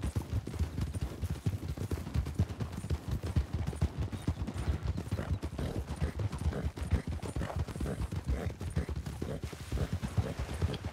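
Horse hooves clip-clop in a fast, steady rhythm as a mount is ridden along with a group of other riders in Red Dead Redemption, the quick beats dense and continuous, fairly quiet, with no voices.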